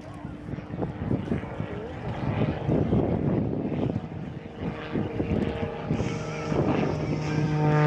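A Zivko Edge 540 aerobatic airplane flies an airshow display, its engine a loud continuous roar that swells and shifts in pitch as it passes, with a steady whine rising near the end and a voice talking over it.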